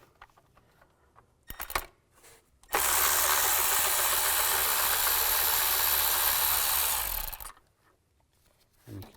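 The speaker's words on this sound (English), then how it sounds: "Just use a 10mm socket. Take those two bolts out." A ratchet with a 10mm socket works bolts loose on a GMC Acadia engine, first with a few short clicks, then a long, loud, continuous buzzing run of about five seconds, close-up, before a final brief click.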